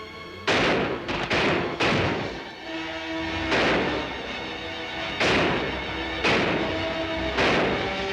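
Loud gunshots ring out in a Randolph Scott western gunfight, about eight sharp, booming reports fired at irregular intervals, each trailing off in a long echoing decay, with no voices over them.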